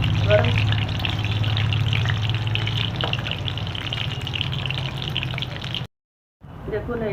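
Papad frying in oil in a pan gives a steady bright sizzle throughout, briefly cutting out near the end, with a voice talking over it.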